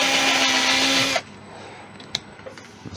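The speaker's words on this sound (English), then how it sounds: "A slight bit of sanding, right?" A punky wooden bowl spinning on a woodturning lathe gets a steady, loud whirring, abrasive sanding hiss that stops abruptly after about a second, followed by quiet workshop noise with a few faint clicks and taps.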